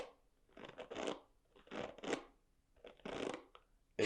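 Beaded hairbrush dragging through a horse's mane, giving three gritty scratching bursts spaced about a second apart, close and fairly quiet, each a rough rasp as the beads catch and release.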